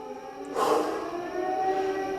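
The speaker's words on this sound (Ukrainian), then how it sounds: "та сирена мене збаламутила" A civil defense siren starts up in the distance and holds a steady wailing tone, moderately loud over a quiet background.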